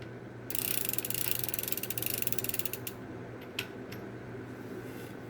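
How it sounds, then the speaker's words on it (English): A wrench turns the lockring on a 12-speed bicycle cassette, a rapid close ratcheting clicking for about two seconds followed by a few isolated clicks, with no voices. "it'll just lock on a wrench to that thing"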